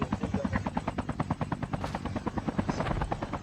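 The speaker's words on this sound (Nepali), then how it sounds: "ड्रोनको मुनि बम चप्केको हुन्छ अनि ड्रोनले गएर बम पड्काउने" A bomb-carrying drone flying in Call of Duty Mobile makes a steady, rapid rotor chop, like a small helicopter, pulsing evenly and fairly close with no one talking.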